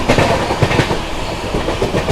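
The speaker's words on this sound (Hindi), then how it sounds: "महाबोधि को ओवरटेक कर दिया है।" An express train thunders past while overtaking the Mahabodhi Express, heard up close as a loud, rushing clickety-clack of wheels over rail joints with steady roaring rumble throughout.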